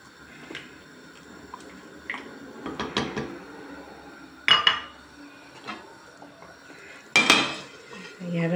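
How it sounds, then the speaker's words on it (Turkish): Spinach stew is stirred in a pot, with a utensil knocking and scraping against the metal in a few sharp clanks and softer rattles, separated by quiet moments, close by and with no talking. "arada hep karıştırarak dibi tutmasın diye yemeğimi pişiriyorum"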